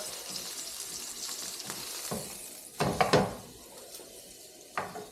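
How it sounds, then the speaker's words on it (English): Tri-tip steak sears on a hot surface, giving a soft steady sizzle with a few louder crackling bursts and clanks near the middle and end. "we're losing a little bit of temp searing it"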